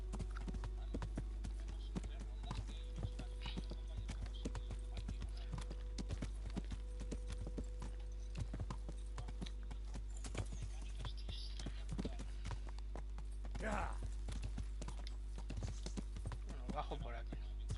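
A horse's hooves clip-clop steadily in the medieval video game Kingdom Come, a fairly quiet repeated rhythm running under a low hum, with a voice speaking partway through.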